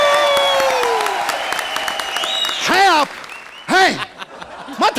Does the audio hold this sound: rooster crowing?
no